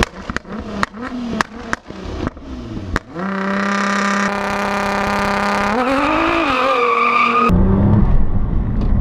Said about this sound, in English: build full boost, hold your launch RPM steady, and then creep forward to fully stage the vehicle and then launch